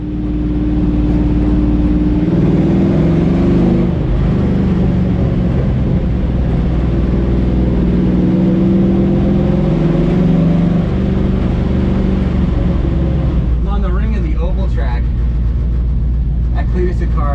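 A street-legal NASCAR stock car does a burnout at Lucas Oil Raceway, a loud, sustained low engine roar and rumble holding steady for many seconds before shifting near the end, with crowd noise beneath.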